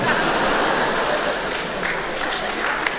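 A comedy show audience applauds steadily and loudly for a few seconds, dense clapping filling the room with a few scattered chuckles.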